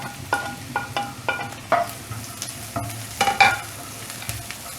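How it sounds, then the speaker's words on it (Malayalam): Sliced onion goes into a hot pan with green chilies for a veg burger filling, and a utensil stirs it. Repeated close taps and scrapes punctuate a low, steady sizzle. "സവോള ഇടുന്നു."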